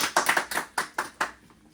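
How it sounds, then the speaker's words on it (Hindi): Hand clapping at a welcome gathering, a few loud irregular claps from a small group over less than two seconds, close and dry, fading out at the end. "जोरदार तालियों के साथ भाई।"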